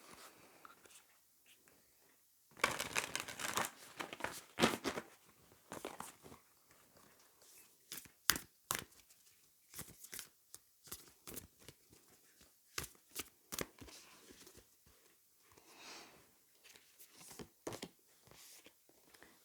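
Tarot cards are shuffled by hand close up, with repeated crisp riffling and snapping bursts in irregular clusters and quiet gaps between them.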